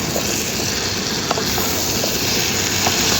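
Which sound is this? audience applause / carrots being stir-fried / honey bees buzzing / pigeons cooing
carrots being stir-fried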